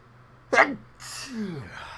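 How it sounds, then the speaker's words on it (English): One sharp, close sneeze bursts out indoors during a phone charger unboxing, followed by a breathy exhale or gasp trailing off. "I gotta sneeze"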